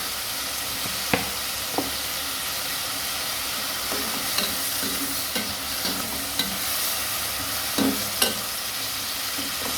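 Fried rice with tomato sauce crackles steadily in a hot pan while a spatula stirs it, with a few scattered knocks and scrapes against the metal over the continuous sizzle, close up and without talking.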